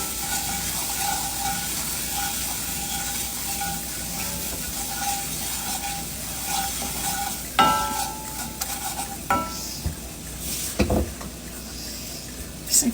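A wooden spoon stirs flour into hot frying grease to make gravy, a steady sizzle and hiss under repeated scraping strokes, close by, with a few louder clinks toward the end and no talking.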